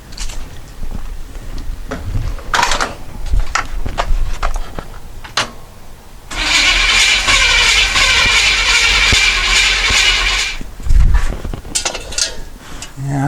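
The starter turns over the engine of a 1962 Chevy C-10 pickup with a suspected faulty fuel pump. It whirs loudly and steadily for about four seconds, and knocks and handling noises come before and after.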